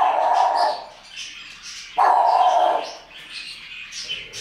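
A pet raven imitates a dog's bark, giving two loud, drawn-out harsh calls close by with short gaps between them, then a softer trailing sound.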